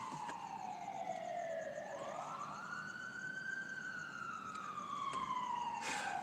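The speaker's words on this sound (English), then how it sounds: "That's an ambulance." An ambulance siren passes by, loud and continuous, its wail sweeping slowly down and then up in pitch over steady traffic rumble, with no voices.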